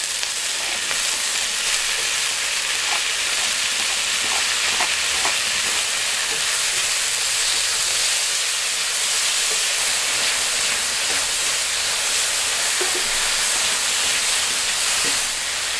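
Onion and chilies sizzle steadily in hot oil in a pan, a dense, even hiss with faint crackles running the whole time, close and loud with no talk.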